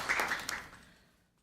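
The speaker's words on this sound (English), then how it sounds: "I think you deserve one more round of applause." A brief burst of applause at a town council meeting fades quickly, with the clapping tapering into quiet within about a second.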